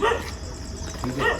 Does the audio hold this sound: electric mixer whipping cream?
no